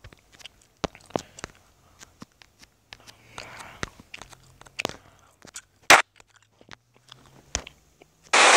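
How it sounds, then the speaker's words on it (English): Someone chewing a piece of gum close to the mic, soft wet crunchy bites in an uneven rhythm with a few louder clicks and pops in between. "if you hear chewing, that's just me chewing on a piece of gum"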